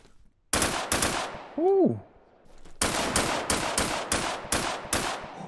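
A BB19 gun firing in the Deadside multiplayer shooter game: a sharp pair of shots, then a steady sequence of about eight loud, evenly spaced single shots, with a brief exclamation from a man between bursts.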